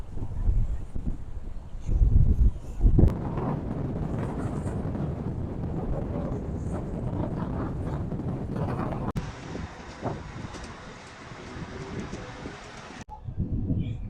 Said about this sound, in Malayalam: നല്ല കാറ്റാണ്, ടോപ്പ് കാറ്റാണ്